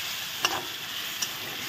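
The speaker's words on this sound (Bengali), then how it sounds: "জল দিয়ে এখন ভালো করে একটু নেড়ে চেড়ে নেব।" Spiced potatoes and pointed gourd simmer under a low hiss after a little water is added, with two light spoon scrapes against the pan as the curry is stirred.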